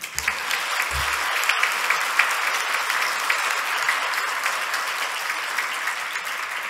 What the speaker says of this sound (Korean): 우리 와이프한테 한번 박수 한번 해주세요.